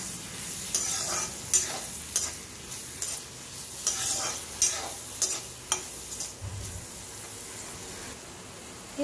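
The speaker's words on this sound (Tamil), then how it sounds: "எண்ணெய் காஞ்சிருச்சு, வெங்காயம் போட்டுக்கலாம், பூண்டு போட்டுக்கலாம், பச்சை மிளகாய் போட்டுக்கலாம்." Onion, garlic and green chilli sizzling in hot oil, with a steady frying hiss broken by repeated scraping stirs at a regular, brisk rhythm, close and fairly quiet, with no talking.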